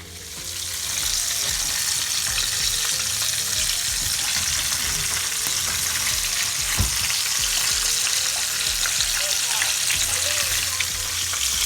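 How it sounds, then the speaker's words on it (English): Pieces of homestyle KFC-style chicken fry in hot oil with a loud, steady, close sizzle and crackle that holds unbroken throughout. "let's check out my good chicken, see what's popping. Baby frying"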